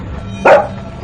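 A single short, sharp dog bark in a house, close and loud, standing out alone against a quiet background.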